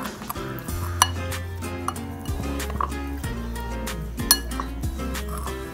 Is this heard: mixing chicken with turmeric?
yes